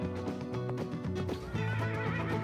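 A horse whinnies loudly in a long, wavering call in the Roblox game Dead Rails, over a dense, busy background with faint hoof clip-clops.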